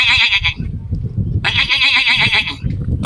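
A human voice imitating an adult goat: two loud, close, wavering bleats, a short one first and a longer one after a pause, over a low background rumble.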